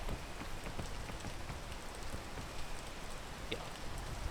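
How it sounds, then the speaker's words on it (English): Rain pours continuously in the video game Peak, a dense, steady patter of drops on surfaces, quiet and unbroken throughout. "Stop the raining."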